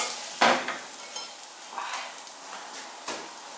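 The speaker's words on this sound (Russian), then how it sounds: "Продолжаем жарить блины." Steady sizzling of Russian blini batter frying in a hot pan, with a couple of sharp scraping and clinking sounds from a utensil against the pan.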